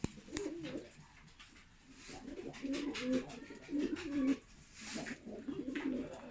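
Tumbler pigeons coo in repeated soft, throaty phrases close by, with short pauses between bursts against a quiet background.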